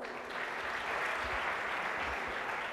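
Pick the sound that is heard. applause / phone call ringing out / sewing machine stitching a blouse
applause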